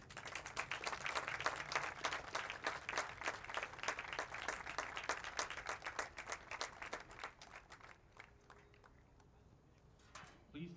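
A stadium crowd at a NISA soccer match between Stumptown AC and Maryland Bobcats FC claps for military members and first responders, scattered distinct claps over crowd murmur that thin out and fade near the end, with voices mixed in.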